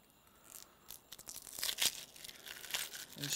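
Papery outer layer being stripped off a halved onion by hand, a close, dry crackling tear that builds from soft crinkles to louder rips, with no voices.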